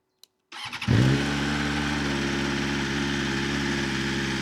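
A click, then a 2025 BMW M 1000 XR motorcycle engine cranks and fires, surging into a brief loud over-rev before settling into a steady, close idle.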